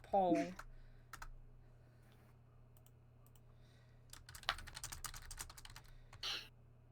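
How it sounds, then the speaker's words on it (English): Bursts of rapid keyboard typing, close and crisp, with a brief voice at the start and a quiet pause before a final flurry of key clicks. "You can't talk over my typing"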